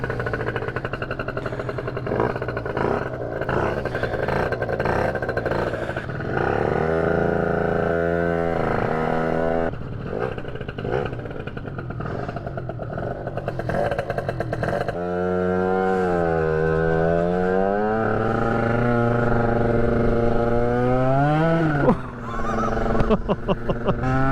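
A small moped engine buzzes and rises and falls through repeated throttle sweeps while riding with the standard rear pulley fitted, a fairly loud nasal drone with wind noise and no talk.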